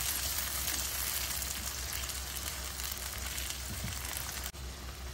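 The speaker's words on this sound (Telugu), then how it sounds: "ఇందాక నేను చోలేకి ఉడకపెట్టుకున్నది వేస్తున్నాను చూడండి" Boiled chickpeas sizzle loudly in hot oil with fried onions in a pan while chole is being cooked, a continuous close crackling hiss with no talking.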